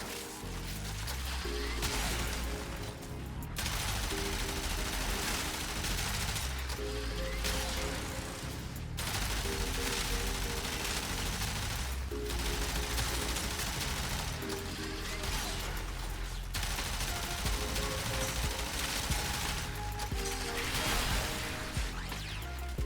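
The Mausolon heavy weapon fires in Warframe gameplay, a continuous barrage of booming, crunching shots and explosions that rolls on without pause, with short gaps every few seconds.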